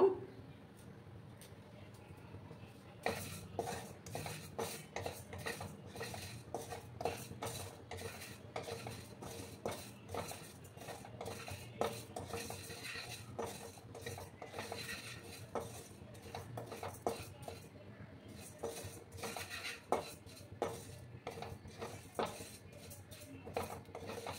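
Flaxseed lightly dry-roasting in a pan, with steady scraping and stirring and light clinks of a utensil against the pan running continuously at close range.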